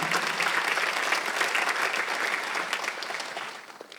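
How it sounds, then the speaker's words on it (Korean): A church congregation applauding during a Sunday worship sermon, a loud, continuous roar of many hands clapping that holds steady and then thins toward the end. "박수 하세요."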